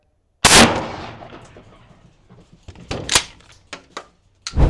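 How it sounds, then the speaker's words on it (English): A single 12 gauge shotgun slug is fired outdoors at a 45-pound weight plate, giving one loud sharp blast with a decaying tail, followed by several quieter clanks and thumps and another sharp bang at the end. "So this is shot number 2 with the 12 gauge slug, and we'll see what happens."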